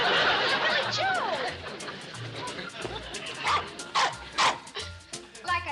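Several dogs bark and yip in quick, uneven bursts, with whimpering notes, fairly near, over a background of talking voices.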